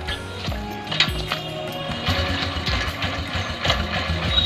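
A motorcycle engine catches and runs after being started by spinning its wheel by hand, with no kick or electric starter, giving a steady idling chug with rhythmic ticking pulses, fairly close and moderately loud throughout.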